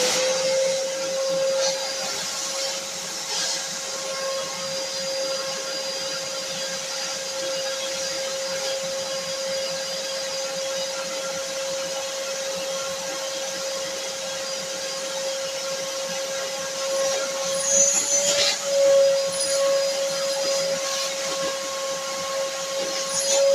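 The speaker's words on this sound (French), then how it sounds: "Donc ce qui reste là, je vais l'aspirer." A vacuum cleaner sucks up leftover diatomaceous earth powder while cleaning poultry rearing cages, a steady close whine with a tonal hum that runs unbroken, briefly rising with a rattle near the end.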